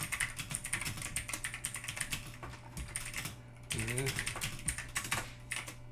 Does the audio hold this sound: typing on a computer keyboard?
yes